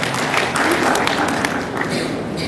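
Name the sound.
applause from a church congregation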